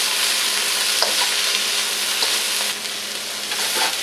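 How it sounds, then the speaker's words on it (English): Vegetables stir frying in a hot pan for pineapple fried rice, a steady broadband sizzle with occasional stirring clatters and scrapes, close and continuous with no talking. "you probably stir fry this for maybe, I don't know, 8 minutes total for all the vegetables"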